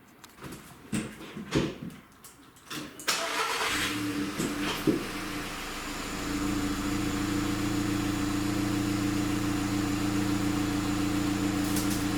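A car engine cranks and catches after a few clicks and rustles, then settles into a steady, even idle that carries on close by to the end.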